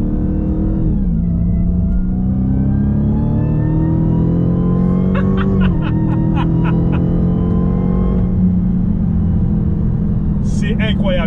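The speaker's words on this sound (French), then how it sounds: "on va se faire une petite accélération en sortie de virage." A Dodge Charger Hellcat Widebody accelerates hard out of a corner, its loud engine note climbing and rumbling steadily close by with rising pitch, while someone talks over it throughout.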